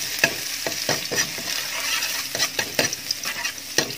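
Ginger sautés in hot oil in a pan, a soft continuous sizzle broken by repeated scraping and tapping of a stirring spoon at an uneven rhythm; nobody talks.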